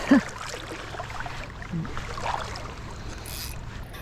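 A boat passes by on the water during a morning fishing outing, a steady rushing wash and low engine rumble at moderate distance, with a slight swell partway through and no talking.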